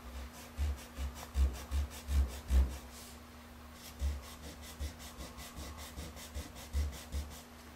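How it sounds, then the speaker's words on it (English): A kneaded eraser lifts pastel from a drawing surface in a quiet, rhythmic series of soft rubbing strokes, close up, over a faint steady hum. "Now using a kneaded eraser,"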